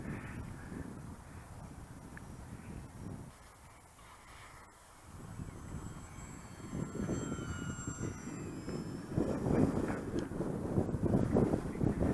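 A Fournier RF4 light aircraft flying a low, slow landing-approach pass, its engine droning steadily and swelling louder toward the end, heard from the ground at moderate distance.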